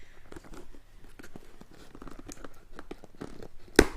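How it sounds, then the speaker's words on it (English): Scissors cut packing tape on a cardboard box: quiet papery scratches and crinkles build to one sharp, louder snip near the end. "So I'm just gonna snip the tape here."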